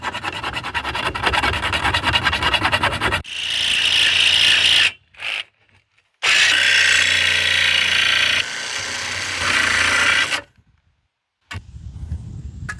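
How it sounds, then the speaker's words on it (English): A mill file rasps across metal while a door security hardware fix is cleaned up, in long, loud, steady filing strokes broken by short pauses, close up with no talking. "Now we're just gonna clean this up a little bit with a mill file"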